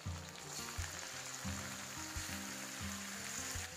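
Goat meat pieces frying in a pan with chopped shallots for mutton masala, giving a steady close sizzle throughout, with no talking.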